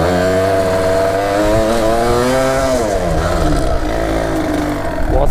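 A Yamaha DTR 125 trial motorcycle revs hard while climbing a slope, its two-stroke engine rasping and buzzing loudly and continuously, with pitch rising and falling as the throttle is worked.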